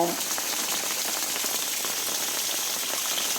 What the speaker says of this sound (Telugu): ఇప్పుడు వర్షం తగ్గి చినుకులుగా వస్తుంది